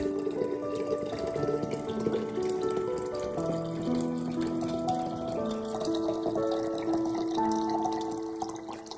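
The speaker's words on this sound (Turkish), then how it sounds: "Üzerine 2 litre su ekliyorum." Two litres of water poured into a mixture, a close, continuous splashing and gurgling fill with ringing tones, easing off at the end.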